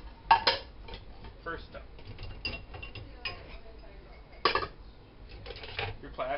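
Bowls clatter and clink as they come out of a dishwasher, with sharp ceramic knocks scattered irregularly through the stretch, and a person speaks briefly near the start.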